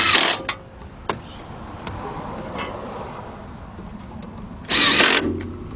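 A 10 mm deep socket on a ratchet or power tool tightening bolts on a 2010 Honda Accord 2.4 front strut assembly, two short loud bursts with scattered metallic clicks and a quiet garage between them.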